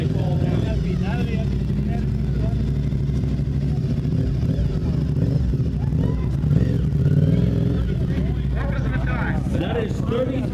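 A Honda RC51 sportbike creeps through a slow-race course, its engine holding a steady low rumble that swells slightly midway, with people talking in the background throughout.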